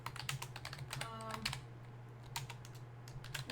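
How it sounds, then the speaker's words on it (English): Rapid clicking on a computer keyboard during a World of Warcraft streaming session: a steady run of sharp, close keystrokes with brief pauses, over a constant low hum and no talk. "I'm typing something in the stream."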